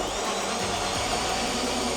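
A drill with a hole saw bites slowly into a van floor, giving a steady, dense whirring grind heard up close for a couple of seconds, alone.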